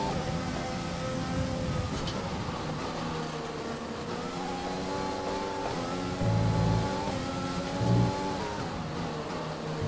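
A Formula 1 race car in the F1 2020 video game at the Netherlands race, its engine droning and shifting in pitch as the car pulls away, steady and fairly loud over the whole stretch with brief low rumbles.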